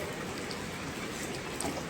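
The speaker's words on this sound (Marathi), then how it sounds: "तुफान पाऊस पडतोय आणि आता आम्ही निघालोय" Heavy monsoon rain pours down outdoors during a windy downpour, a steady, dense broadband hiss with no breaks and no voices.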